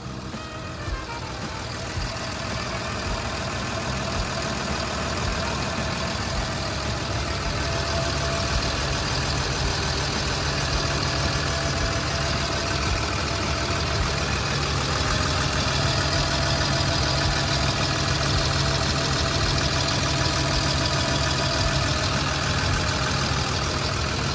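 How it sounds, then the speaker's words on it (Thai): A Hitachi ZW220-5B wheel loader's diesel engine idles steadily and loudly nearby, a constant low rumble with mechanical hum, uninterrupted for the whole stretch. "ลูกค้าลองฟังเสียงเครื่องยนต์นะครับเครื่องยนต์เขาทำงานได้"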